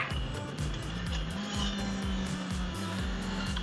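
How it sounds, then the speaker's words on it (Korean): A Honda CBR650R with E-Clutch downshifts four times from sixth to second while riding at 80 km/h and 4000 rpm: the engine note steps up in a series of short rev blips, each one rising, over steady wind roar. "여기서 2단으로 빠바바박 4번 내려볼게요"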